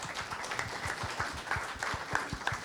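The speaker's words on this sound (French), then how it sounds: "On peut applaudir ce travail magnifique" An audience at a round-table event on film music and editing applauds, a short burst of dense clapping with some distinct sharp claps, steady and mid-distance, no voices over it.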